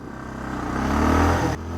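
A 2025 Hero Xtreme 125R or TVS Raider 125 motorcycle pulls away in first gear, its engine rising in a loud, close, steady drone before a brief dip as the revs drop.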